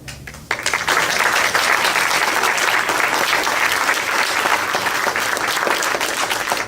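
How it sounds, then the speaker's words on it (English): Sustained audience applause fills a public meeting of a citizens' group opposing a landfill in Hempstead, starting abruptly after a brief quiet moment and holding steady and loud throughout. "You deserve every bit of the applause, Rick."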